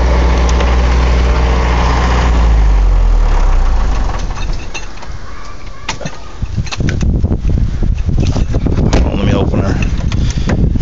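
A Mercedes 240D diesel engine with a white-smoke and high-idle fault idles with a steady low rumble that settles lower, then gives way to a rougher clattering hiss, with someone talking over it.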